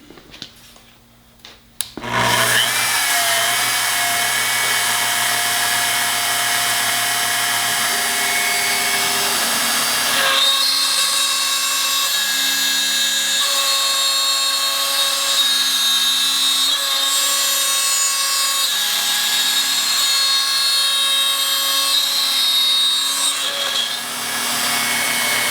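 A CNC router spins up and cuts wood with a 1/8 inch compression bit, a loud steady whine with layered tonal hum and a rough grinding edge that holds almost continuously for the full length, with no voices.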